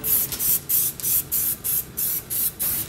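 A spray can lays a second coat of Plastidip on the front lip of a 2014 Mitsubishi Ralliart in about nine short, loud, close hissing bursts at an even rhythm.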